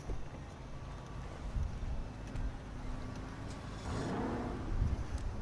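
Car engine starting up in GTA 5, a rare Benny's custom car: a quiet, muffled engine rumble with brief revving rising toward the end, no voices.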